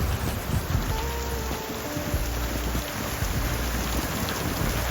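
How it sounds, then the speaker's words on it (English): Rain drums steadily on a sailing catamaran, an HH52 underway between Indonesia and Thailand, with a dense hiss of drops against the boat and low rumbles of wind and engine beneath. "rain just arrived, and it's just mad panic to get everything closed up"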